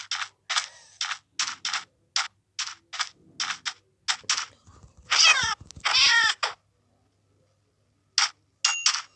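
A cat in a fishing video game gives a rapid series of short, bright mews, then two longer drawn-out meows, followed by silence and a couple of final brief cries.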